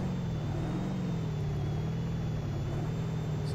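A car engine in the driving game BeamNG.drive, a steady low humming drone that holds a fairly even pitch and sits close and continuous, with no talk over it.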